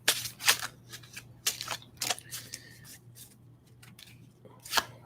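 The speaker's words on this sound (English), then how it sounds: "As I shuffle the cards, get it ready" Tarot cards from a handmade major arcana deck being shuffled, a run of crisp papery riffles and rubbing swishes in uneven bursts, fairly close and quiet, with no talking.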